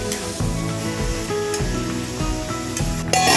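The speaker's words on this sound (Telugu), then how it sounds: "నూనె వేడైంది, ఉల్లిపాయలు వేసుకుందాం." Onions frying in hot oil in a pan for a spicy boondi curry, giving a steady, close sizzle that runs through the whole stretch with no talking.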